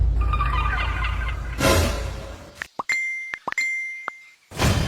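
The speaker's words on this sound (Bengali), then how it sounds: "ফোন পানিতে" A phone splashes into swimming pool water with a sharp plop, followed by a few bright clinks and drips, then quiet before another splash of water.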